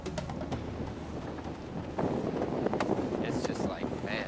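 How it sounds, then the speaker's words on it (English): Wind from Hurricane Dennis roars and buffets the microphone in a steady rush, with a brief high whine in the background. "The way the wind's blowing"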